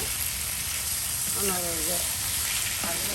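Water poured into a frying spice paste for a village-style meat curry sets off a close, loud sizzle and hiss, with faint stirring and a brief vocal sound partway through.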